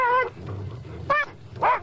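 Sled dogs in Antarctica fighting, with a husky squealing and yelping in pain; short high-pitched whimpering cries come in three bursts over a low growling scuffle, close and loud.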